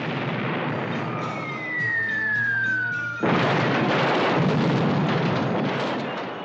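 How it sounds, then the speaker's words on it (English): A miniature film explosion effect: a falling whistle-like tone, then a sudden loud burst of broad noise that rumbles on for several seconds. "Miniature explosions"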